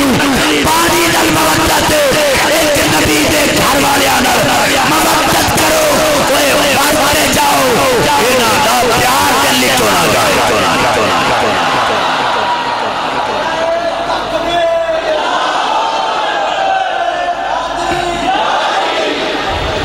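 A large crowd at a religious gathering roars Islamic slogans such as Nara-e-Takbeer and Nara-e-Risalat in loud, rhythmic, massed shouts that fill the space, easing slightly toward the end.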